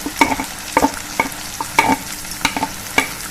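Finely chopped onion sizzles in a pan while a spoon scrapes and clanks against it in quick, irregular strokes, close and fairly loud.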